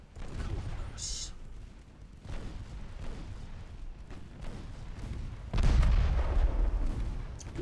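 Naval gunfire in the Ultimate Admiral Dreadnoughts warship game, a German steel leviathan engaging a light cruiser: deep booming salvos and low rumble, with a heavy blast near the end, over continuous battle noise and some talk.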